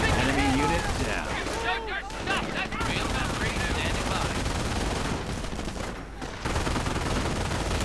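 Machine-gun and rifle fire crackle in a WWII video game battle, a dense run of overlapping bursts with a voice talking over the shooting.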